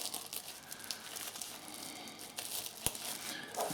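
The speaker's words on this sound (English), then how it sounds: "Actually, I'll just try and break that seal like that." Seal on a Tatara razor box packaging being broken, faint crinkling and tearing of paper or plastic with a single sharp snap near the end, close and quiet.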